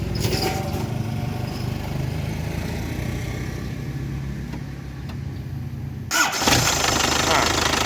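An old 1987 pickup truck engine is started after a long stretch of loud, rumbling motor noise; near the end a sharp surge marks the engine catching and revving up, close and loud.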